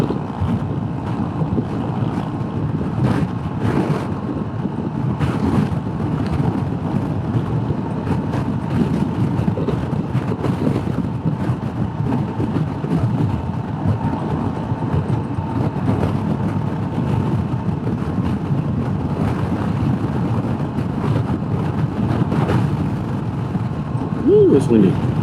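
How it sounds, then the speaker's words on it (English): Heavy wind buffets the microphone while riding a motorcycle on a road trip, a continuous gusty rush with occasional sharp bumps throughout. "Ooh, it's windy."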